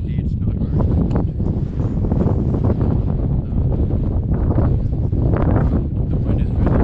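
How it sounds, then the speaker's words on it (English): Strong wind on Grotto Mountain buffets the microphone in a constant loud low roar with gusty surges, and a voice speaks faintly beneath it. "I'm glad that it's just windy, it's not very cold."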